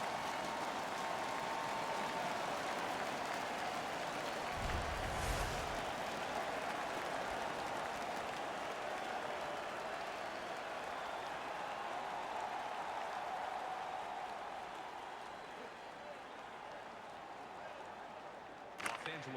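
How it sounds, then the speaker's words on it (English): A virtual arena crowd at an NHL 15 ice hockey game roars in a steady, loud wash of cheering and applause that slowly fades near the end. "The crowd is ecstatic."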